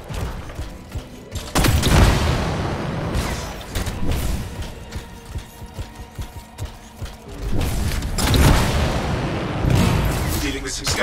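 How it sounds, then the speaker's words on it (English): Canisters exploding in the video game Anthem, with heavy booms bursting around two seconds and again near the end, amid a steady bed of game noise and clatter. "It'll be a contained explosion."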